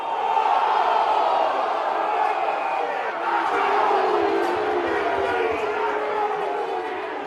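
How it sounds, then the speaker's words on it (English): An angry football crowd at Glenelg Oval shouts and roars in a sustained, loud wall of voices during a SANFL Glenelg versus Norwood match, rising and falling without a break. "Crowd ropeable here at Glenelg Oval. No doubt you can hear them."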